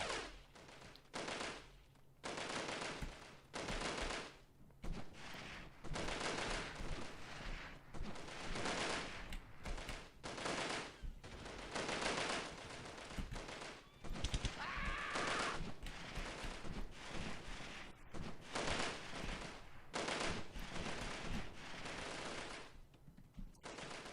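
Dense bursts of automatic gunfire and rapid shots from the 1998 tactical shooter Delta Force, loud and sustained with short gaps between volleys across the whole stretch, with no talk over them.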